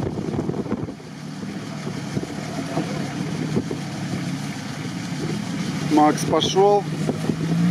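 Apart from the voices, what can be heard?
Lada Niva off-road car engine driving through terrain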